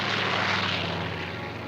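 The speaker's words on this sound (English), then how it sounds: "The morning fighter patrol." WWII American fighter planes on a morning patrol fly past as a steady, loud propeller-engine drone that fills the whole short stretch with no talk.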